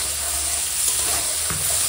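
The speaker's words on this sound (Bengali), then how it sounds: "এখানে লবণ, লঙ্কা গুঁড়ো আর হলুদ গুঁড়ো দিয়ে তেল পটকা ভাজা করছি" Fish swim bladder fries in hot oil with salt, chili powder and turmeric, giving a steady close sizzle with light stirring scrapes.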